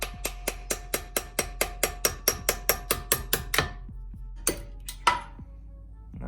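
A steel hammer tapping a small metal punch on a Japanese mini truck gearbox, about a dozen quick even ringing metallic strikes in a steady rhythm, then a pause and two or three louder isolated blows, close and clear.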